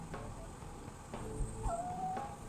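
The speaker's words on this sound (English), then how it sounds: "Oh, my puppy wants up here." A puppy whimpers faintly indoors, giving a short, thin, rising whine near the end over quiet room noise and soft low thumps.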